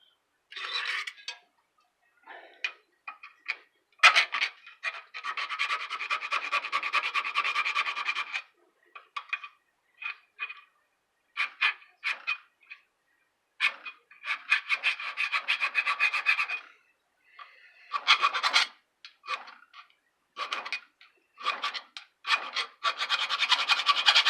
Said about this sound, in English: To get a little bit of filing